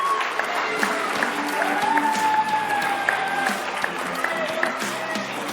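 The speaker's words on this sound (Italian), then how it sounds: "un bel applauso a tutti il basket Sestri" Crowd applause with some cheering for the Sestri basketball team in a TV sports studio, a steady wash of clapping with tonal voices mixed through it.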